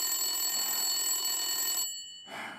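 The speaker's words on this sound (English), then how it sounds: "Answer the phone, man." Telephone ringing in the video game Blacksad: Under The Skin, a continuous bright electronic ring lasting almost two seconds, cutting off, then starting again briefly.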